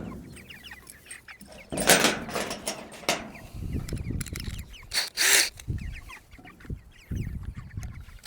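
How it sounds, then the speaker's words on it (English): Chickens cluck and murmur close by in a backyard, with scattered clucks and a few louder bursts of rustling or clatter breaking in. "Oh, chickens everywhere."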